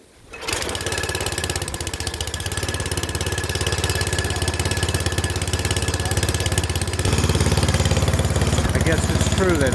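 A small pull-start engine fires on the first pull and settles into a steady, loud running drone, its pitch stepping up slightly partway through and holding near the microphone.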